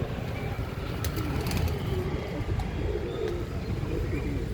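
Pigeons coo softly in a loft, with low murmuring calls and a few brief chirps over a steady background hum.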